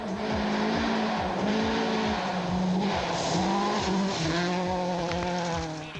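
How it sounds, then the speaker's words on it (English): A Ford rally car with a healthy-sounding engine racing a gravel stage, revving hard through repeated gear changes with rising and falling tones, loud and continuous without talk. "Back on track, the Ford was sounding a great deal healthier."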